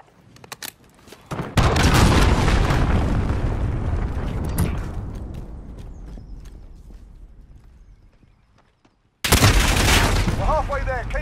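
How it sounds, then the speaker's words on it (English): Heavy booming blasts from a cruise missile strike in the Call of Duty: Modern Warfare multiplayer game, a loud rumbling impact that slowly fades, then a sudden second loud burst near the end. "Allied cruise missile away."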